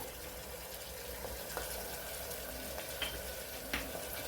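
Ginger-garlic paste being stirred into a mung bean mixture in a pan, giving a soft, steady sizzle with faint scraping and a few small clicks of the spoon, with no talking.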